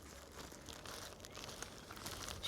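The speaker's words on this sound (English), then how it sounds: "Take a plastic bag" A plastic bag being handled and crinkled while it is inverted over an insect sweep net, giving a faint, continuous rustling and crackling with no voices.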